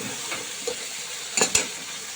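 Liver fries in a pan for biryani, a steady close sizzle with a few soft stirring scrapes and two sharper clinks against the pan near the middle, and no speech.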